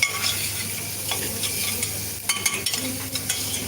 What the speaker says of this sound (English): Cooking is just for sauteing without changing its color.